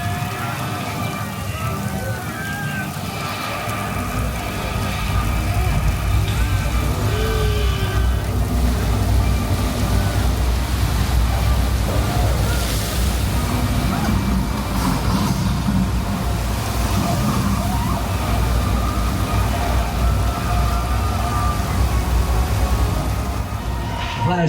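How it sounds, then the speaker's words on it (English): A simulated rainstorm special effect with a wind machine on the Universal Studios Hollywood studio tour: a loud, continuous roar of pouring water and wind, steady throughout, with faint voices beneath. "got a wind machine, you got a storm"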